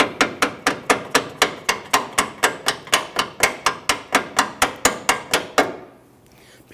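A hammer taps out a front lower control arm bolt on a Dodge Charger, about twenty-five crisp, evenly spaced metallic strikes in a fast steady rhythm, then stopping into quiet.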